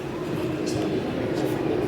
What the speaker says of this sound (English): Look, your train is coming.